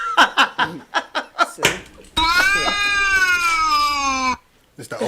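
A cat gives one long, loud, drawn-out meow with a wavering pitch, coming after a run of short bursts of voices and laughter and followed by a brief pause and more talk.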